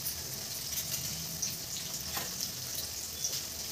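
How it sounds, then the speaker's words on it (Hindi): Onion frying in a pan, a soft, steady sizzle close by with a few light crackles, fairly quiet and alone. "मैंने एक मीडियम साइज का प्याज डाला है। इसे हल्का सुनहरा होने तक भूनना है।"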